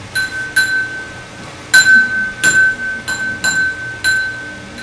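A glass rung with a small bell hammer gives a series of about seven bright strikes, irregularly spaced, each leaving a sustained pure ringing tone that hangs on between hits, close and clear with nothing else over it.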